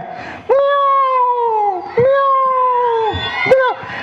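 A cat meows three times in a row, each call drawn out and slightly wavering, loud and close, with short gaps between.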